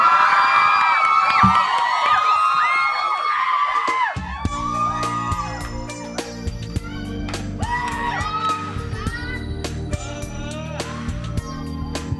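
Concert crowd screaming and cheering loudly for several seconds, then giving way to steady, punchy music with shrill whoops and screams continuing over it.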